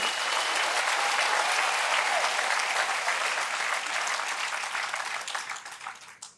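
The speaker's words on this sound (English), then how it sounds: "And we should give a big round of applause for this progress today" A crowd at the official opening ceremony of the Platreef Mine in Mokopane, Limpopo, applauds in a dense, sustained burst that gradually thins and fades out near the end.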